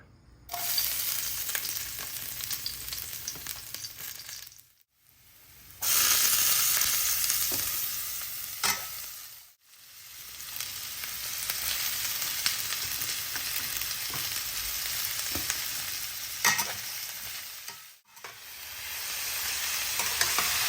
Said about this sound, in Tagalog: umpisahan na natin magluto gigisa muna natin yung mga samya tapos saka natin lalagay yung isda